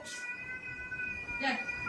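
A house cat gives two short meows about a second apart, the second one clearer and louder, over a faint steady hum.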